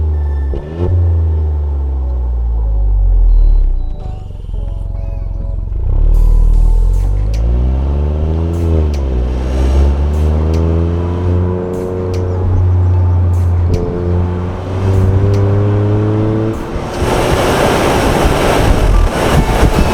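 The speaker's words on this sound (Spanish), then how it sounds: "los 3 cilindros en la mayor parte de los casos cuando estás acelerando suenan guay" An Opel Mokka with a three-cylinder engine accelerating hard, a loud close rumble climbing in pitch through several gear changes, each shift dropping the revs before they rise again.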